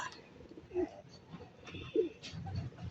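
Racing pigeons coo softly near a loft in Candelaria, Quezon, giving two or three low calls over faint background noise.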